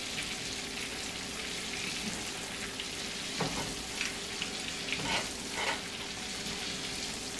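Butter sizzles and browns in a pan with a steady, close crackling hiss, broken by a few brief louder spatters.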